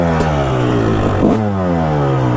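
A 2005 Kawasaki KX250 two-stroke motorcycle engine revs loud and close, pitch sweeping down, then a sharp blip rising and falling away again.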